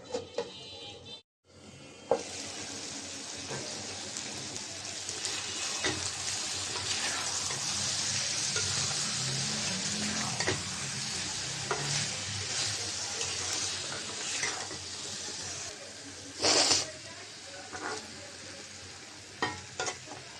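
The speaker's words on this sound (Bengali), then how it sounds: "মাংসটা কষিয়ে নিলাম অনেক সুন্দর করে" Chicken pieces being stirred and browned in a hot pan for a potato chicken curry, a steady loud sizzle running throughout with scraping spoon strokes, a brief pause near the start and a sharper hissing burst later on.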